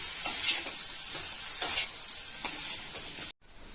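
Soybean curry sizzles and fries in a pan while being stirred, with soft scraping strokes at intervals over a steady hiss, fairly quiet, and no talking.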